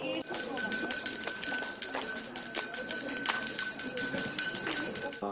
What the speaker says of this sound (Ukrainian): І нарешті лунає перший дзвоник.